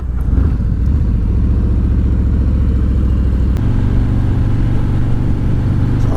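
Harley-Davidson motorcycle engine running steadily through a set of curves, a loud continuous mid-range rumble with a brief throttle change partway through and constant wind rush.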